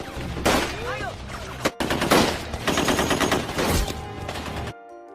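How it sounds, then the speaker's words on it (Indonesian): Gunfire in a battle scene from the Indonesian war film Darah Garuda: loud, dense bursts of machine-gun and rifle fire with a brief break midway, ending abruptly. "Seketika terjadilah kontak senjata."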